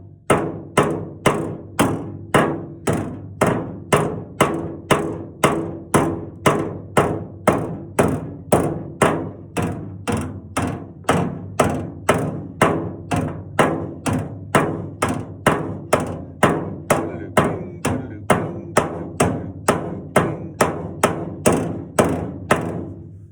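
A hammer strikes an old truck's sheet metal during body work, landing steady, evenly spaced blows close by, about two per second, for the whole stretch with no talking.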